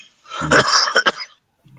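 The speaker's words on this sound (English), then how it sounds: "I got some cough, maybe allergy." A person with an allergy cough gives a short, harsh cough, a couple of quick bursts close to the microphone, followed by quiet.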